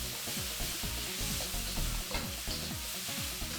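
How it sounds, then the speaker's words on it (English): Vegetables being stir-fried with curry, thyme and white pepper for Nigerian fried rice crackle and sizzle steadily in a hot pan, with repeated scraping strokes of the spatula, close and continuous without talk. "So we're doing is stir frying our vegetables."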